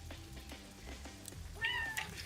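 A house cat lets out a single clear, drawn-out meow near the end, fairly close but quiet overall, with faint background sounds and no one talking over it.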